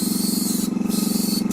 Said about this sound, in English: I'm going to just airbrush some of the darkness back into the rock work with a bit of black